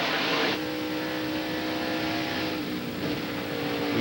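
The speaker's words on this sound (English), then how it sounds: "We hear McLaughlin back off the gas, go in the corner." A NASCAR Busch Series race car backs off the gas heading into a corner during qualifying, its loud, steady engine roar holding close with only a slight dip in pitch and no voices.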